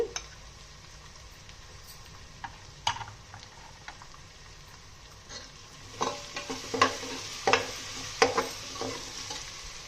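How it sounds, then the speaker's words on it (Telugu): Shallots and thinly sliced onions fry in a pan for prawn biryani: a soft sizzle that swells in the second half with sharp scraping and clacking strokes of stirring, nearby and without talk. "ఇప్పుడు ఆనియన్ షెల్లెట్స్ వేసేస్తున్నాను. సన్నగా ఈనుల్లా కట్ చేసుకున్న ఉల్లిపాయ ముక్కలు కూడా వేసేసి ఇవి లైట్ గోల్డెన్ కలర్ వచ్చేదాకా వేపుకుందామండి"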